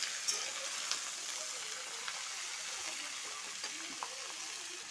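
Ridge gourd, potato, radish and squash cooking in a pan, giving a faint, soft sizzle with a few light scrapes of a spoon against the pan.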